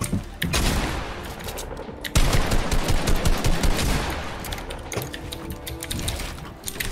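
Rapid bursts of video game gunfire in Fortnite rattle loud and continuous, with a brief dip before heavier automatic firing resumes.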